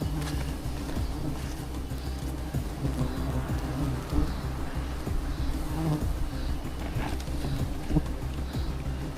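A low, continuous buzz of bees around a tree high up during a honey hunt fills the air, with scattered clopping and rustling sounds nearby.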